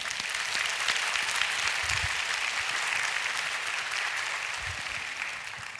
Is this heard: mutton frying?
no